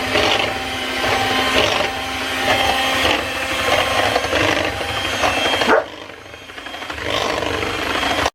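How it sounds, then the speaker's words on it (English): Electric mixer whipping cream in a bowl, a loud continuous motor whir with a rhythmic pulsing rattle as beaters strike the bowl, dipping briefly near the end before resuming. "we are going to mix it with an electric mixer"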